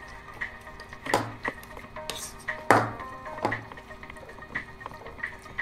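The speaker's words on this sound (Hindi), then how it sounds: "अब मैं इसमें थोड़ा सा नमक डाल के इसे मैश करूंगी" Roasted eggplant mashed with salt in a metal pot gives soft clinks and taps of a utensil against the pot, a few sharper knocks spaced irregularly, fairly close and quiet.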